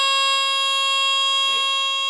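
A FirstGaurd FG-1 smoke alarm sounds during a test with a loud, steady, shrill electronic tone. The tone holds continuously, and a voice speaks briefly over it.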